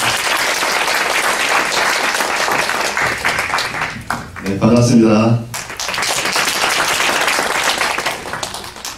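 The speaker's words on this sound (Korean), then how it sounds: "우리 노 대표님 나올 때 뜨거운 박수로 환영해 주시죠." Warm, loud applause from an audience at a school information session, a dense wash of clapping that briefly gives way to a man's spoken greeting before the clapping resumes.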